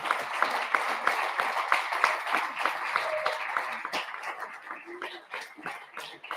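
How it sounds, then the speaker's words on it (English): Audience applause for the winner of the open stories section at the Riff Pitch Lab, moderate and steady clapping from a crowd, thinning toward the end, with scattered sharper claps and a brief voice among the hands. "A big applause."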